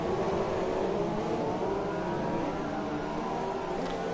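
Race cars in a Chinese Grand Prix racing game, a McLaren Honda passing a Mercedes, with a steady loud engine roar and revving that holds close throughout, no talk over it.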